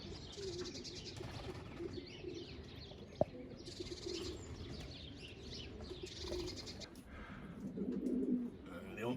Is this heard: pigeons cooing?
yes